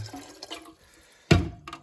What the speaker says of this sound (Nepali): पानी चाहिँ अब त हाल्नु पऱ्यो